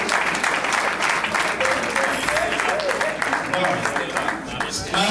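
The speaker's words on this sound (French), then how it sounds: "On va applaudir pour vous." Steady audience applause at the official inauguration of the Congolese community of Washington, D.C., continuous and fairly loud throughout with voices mixed in.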